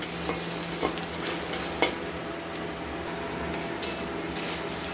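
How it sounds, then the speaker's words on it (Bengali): Steady sizzling of potatoes frying in a pan, with a few sharp clicks of a spoon stirring now and then, close up and fairly quiet. "এটাকে একটু ভালো মতো করে ভাজা ভাজা করে নেব, লাল লাল করে একটু ভেজে নেব"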